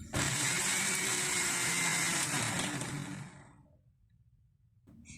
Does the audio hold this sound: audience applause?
no